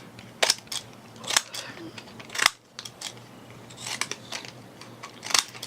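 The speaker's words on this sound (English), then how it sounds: "Just give it a bit of a hacking with these scissors" Scissors hack at paper bags in a series of sharp, irregular snips and crunches, close up, with quiet gaps between the cuts.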